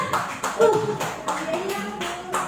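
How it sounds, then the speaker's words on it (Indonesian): A small group at a positive-discipline school workshop claps its hands in a light, scattered patter, with distinct individual claps and some talking underneath. "Beri tepuk tangan buat kita."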